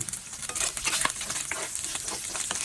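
Meat sizzles and fries in oil in a pan while sautéed salted shrimp paste is being made, a dense, continuous crackle with occasional stirring scrapes, close and fairly loud with no talk.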